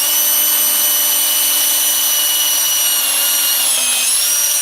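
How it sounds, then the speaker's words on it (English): A drill bores a hole through a wooden gonk blank turning on a wood lathe, giving a loud, steady high-pitched whine with grinding friction that continues unbroken and alone. "I'm going to drill the hole because it's nice and easy on the lathe."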